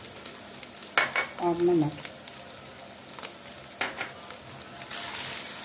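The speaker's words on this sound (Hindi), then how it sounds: "इन्हें चंद सेकंड के लिए भून लूँगी।" Minced meat frying in a pan with onion, turmeric and ground red chilli, with a steady sizzle and a few stirring scrapes while someone speaks briefly.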